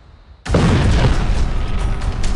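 An air-launched bomb of just under 1000 kg detonates with a sudden, very loud blast after a quiet moment, followed by a sustained roaring rumble and crackling debris that stays heavy to the end.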